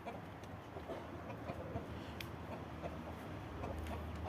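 Plymouth Cross Silver hens and roosters cluck in a steady, busy farmyard chorus, a dense layer of overlapping calls held at an even level throughout.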